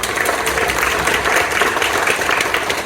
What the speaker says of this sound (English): can we have a round of applause for your children?